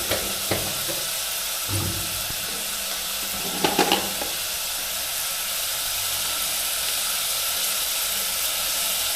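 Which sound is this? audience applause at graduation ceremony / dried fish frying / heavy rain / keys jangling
dried fish frying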